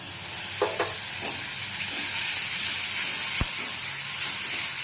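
Ginger paste and spices frying in a pan for a Bengali doi katla fish curry, a steady sizzle and hiss with a few brief stirring clinks and scrapes, no talking.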